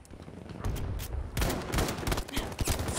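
Dense bursts of gunfire in Battlefield V, several rapid overlapping shots close by and loud, forming a continuous volley across the whole stretch.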